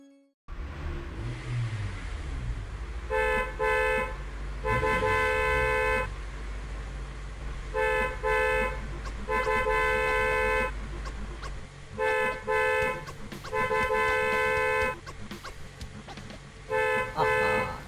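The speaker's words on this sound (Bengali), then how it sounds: "এত হর্ন বাজানোর কি হলো?" Loud car horn honks in repeated bursts, some long and some short, over a low idling engine rumble.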